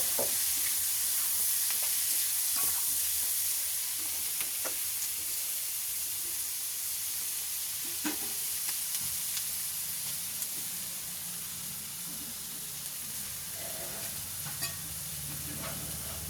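Onions browning in hot oil in a pan give a continuous close sizzle and hiss, with occasional scraping stirs, steady throughout.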